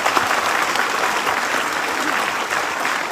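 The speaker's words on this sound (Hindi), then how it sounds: "इन गुरुओं के लिए एक जोरदार तालियां होना चाहिए अभी तक के लिए।" A large audience at the Jashn E Ranchi event breaks into loud, continuous applause, dense clapping that holds steady from start to finish with a faint murmur of voices beneath.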